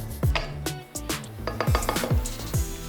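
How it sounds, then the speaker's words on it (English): Utensil clinks and scrapes against a pot while mustard is quickly stirred into mac and cheese, several close, rhythmic knocks and swishes over about three seconds. "Give that a quick little stir."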